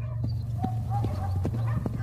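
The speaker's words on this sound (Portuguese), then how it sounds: "Ouviu-se o trotar de um cavalo." Horse hooves clip-clop in a steady trotting rhythm, a series of sharp close knocks over a low droning background.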